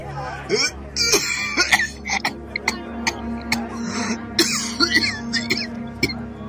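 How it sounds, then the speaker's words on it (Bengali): A man coughs repeatedly after drawing two or three times on a cigar, a run of harsh, close coughs and throat clearing in irregular bursts over a low steady background hum. "তার কাশি শুরু হলো।"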